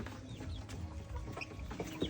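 Chickens in a backyard coop at a rural home, with soft clucks and short calls over steady background noise and no talk.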